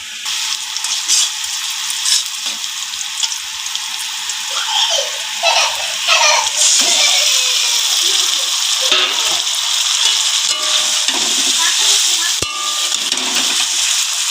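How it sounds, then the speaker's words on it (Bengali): Meat frying in a wok gives a steady, crackling sizzle throughout, with a person talking over it midway and occasional scrapes of stirring. "আমি এখন মাংসটা দিয়ে দেব কড়াইতে"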